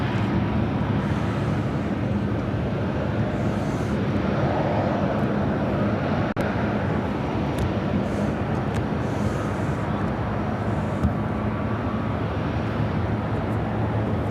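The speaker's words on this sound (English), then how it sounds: "Tap Air Portugal on short final for 27 center." A TAP Air Portugal Airbus A330neo on short final at Chicago O'Hare, a steady moderate jet rumble and hiss holding level throughout, with a brief click midway and no talking.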